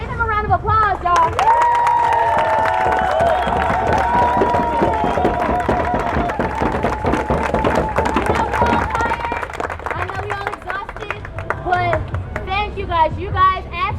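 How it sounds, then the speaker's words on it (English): Protesters at an outdoor Black Lives Matter and equality rally in Seattle clap and cheer, with shouts, whoops and chatter rising and falling over the scattered applause, voices loud and close. "Give him a round of applause, y'all."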